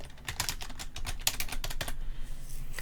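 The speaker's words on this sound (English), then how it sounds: "And now I'm going to type morning coffee." A fast, close run of computer-keyboard typing, with a dense burst of keystrokes that slows and then stops, leaving a quiet room. No one speaks.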